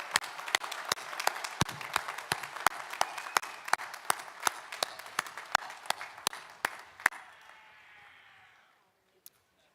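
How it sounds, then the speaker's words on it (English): A crowd applauds graduates of the School of Computing and Engineering at a 2025 Quinnipiac University commencement, with sharp individual claps over steady clapping that tapers off and ends in near silence. "do we have a final round of applause for all the graduates from the School of"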